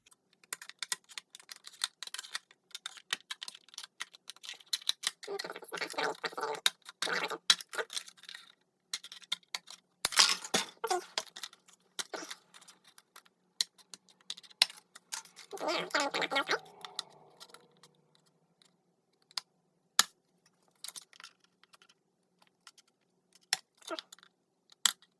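Scissors cut a handmade face mask, giving sharp close snips and crunchy cutting runs in irregular bursts, with quieter pauses between and no speech.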